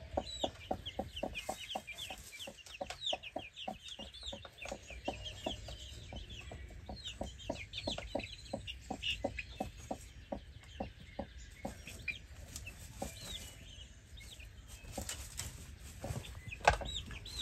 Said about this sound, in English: So there's Mama Hen and Chick.